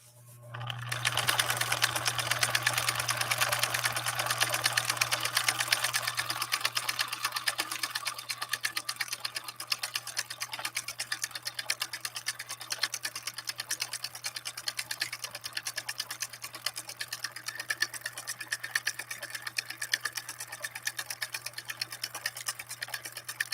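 Husqvarna Viking 2000 sewing machine running steadily for a long stretch, a continuous close, loud mechanical whir with a low motor hum, starting after a brief quiet moment.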